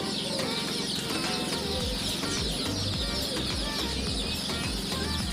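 Dense chirping and clucking of chicks and other fowl crowd a Kuwait pet market stall, a steady loud chorus of overlapping peeps with pigeons nearby and no talk.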